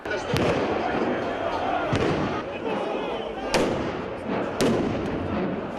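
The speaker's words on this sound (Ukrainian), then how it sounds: "Навкруги починають безперервно розриватися вибухові пакети." Sharp, loud bangs of explosive packets bursting every second or so over a dense, roaring crowd noise during a street clash outside the Ukrainian parliament.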